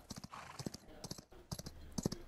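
Horse hooves clip-clop in a video game, quick uneven beats close by, with faint voices and game sounds around them.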